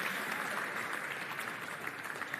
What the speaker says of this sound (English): Please give them an extra round of applause for Andrew and David and Ilona.